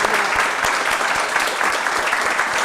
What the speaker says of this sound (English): Well, big round of applause.